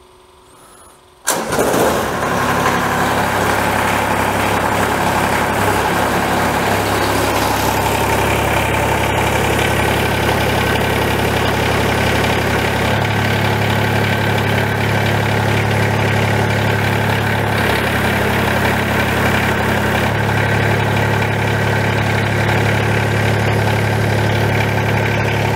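A warm Kubota BX compact tractor engine cranks and catches in the first moments, then settles into a steady, close, loud idle that holds unchanged with no talking.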